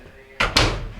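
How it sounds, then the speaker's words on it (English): Two quick thumps as the door of an LG clothes dryer is pushed shut during a repair, close and loud, with a faint hum of the room behind them. "Shut the door."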